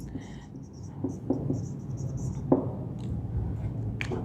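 Handwriting an English grammar example sentence during a lesson, with soft pen or chalk strokes and scratches scattered in short bursts over a low room hum, including a few sharper taps.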